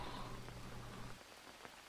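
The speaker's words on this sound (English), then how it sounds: "it's tipping down with rain" Steady rain hisses down in the Green Hell jungle survival game, a dense even wash of heavy downpour with a low hum underneath for the first part, then thinner and quieter.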